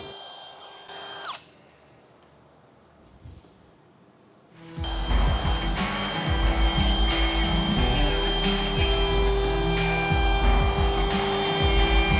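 A router cuts a small 1/8 inch roundover along wooden baseboards, starting with a brief lower hum, a pause, then a loud, continuous high whine with the grinding rasp of the bit in wood.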